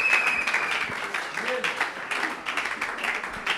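A church congregation claps and cheers in praise of Jesus, a dense, steady wash of applause with voices mixed through it.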